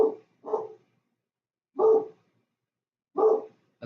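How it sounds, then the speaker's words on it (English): A pet dog barks in a home, with four separate short barks spaced irregularly over a few seconds. They sound moderately close with silence between them. "That's my dog barking"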